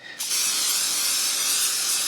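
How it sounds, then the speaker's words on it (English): Non-stick cooking spray hisses from a can into a pan for a Japanese omelet, a close, loud, steady hiss that starts abruptly and runs without pause. "So I'm going to use a non-stick spray just because I find it works really well."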